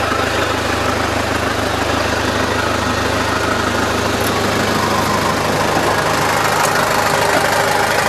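A used Japanese forklift's engine idles with the engine compartment open, a loud, steady, close mechanical drone with a knocking rhythm, no voices over it.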